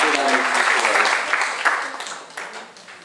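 An audience at an indoor forum claps for a committee member, a dense burst of applause that starts loud and slowly thins out over a few seconds, with voices faintly mixed in.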